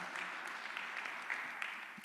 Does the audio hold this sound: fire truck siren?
no